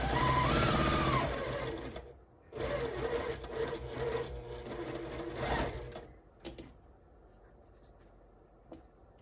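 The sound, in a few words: sewing machine stitching quilt block pieces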